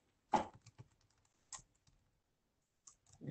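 Someone types in short bursts on a newly swapped computer keyboard, producing sparse, faint, close keystroke clicks separated by quiet pauses.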